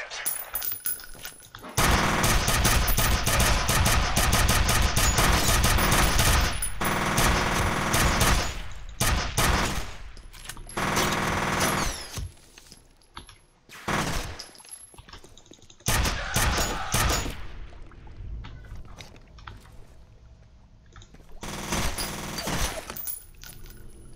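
Gunfire in the video game F.E.A.R. comes as long, loud bursts of automatic fire broken by short gaps, with a few sharp single shots and clattering debris between the volleys.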